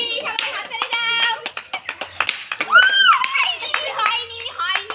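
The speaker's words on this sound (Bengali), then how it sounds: "হাততালি, সবাই হাততালি দাও।" Children clap their hands during a pot-breaking game while kids shout and chatter excitedly over the irregular, close-by claps.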